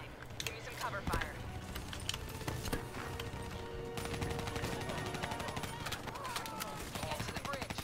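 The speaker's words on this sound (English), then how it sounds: "Give me some cover fire." Cover gunfire in Black Ops 3, bursts of automatic weapons and scattered single shots rattling over a constant combat background, with voices talking across the fight.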